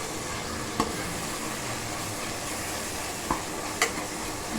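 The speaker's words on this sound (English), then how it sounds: "And I'm going to add the green chilies to it." Split green chilies sizzle steadily in hot oil while being stirred in for mutton pulao, a constant close frying hiss with a few faint clicks of a spoon against the pan and no talking.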